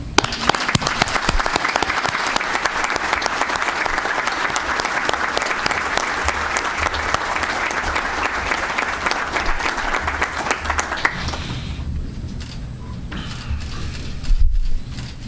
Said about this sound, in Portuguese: eu gostaria de pedir uma salva de palmas